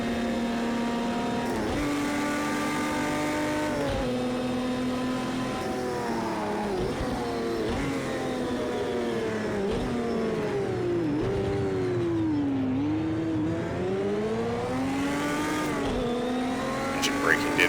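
A classic Porsche 917 LH race car in Project Cars 2, in Spirit of Le Mans trim, drones loudly as the engine pitch climbs and dips through gear changes and braking, with a voice talking over it.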